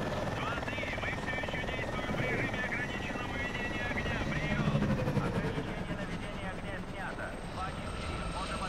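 Steady rotor and engine drone of an aircraft flying in Call of Duty: Advanced Warfare, continuous and fairly loud with a slight swell midway, mixed with game ambience and someone talking over it.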